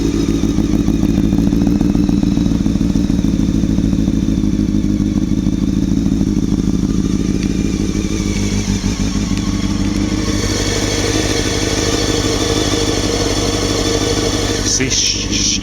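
A Honda CBR600 motorcycle fitted with a Devil exhaust idles on a warm day, a steady, loud, close throbbing rumble with clattery mechanical texture that sharpens slightly toward the end.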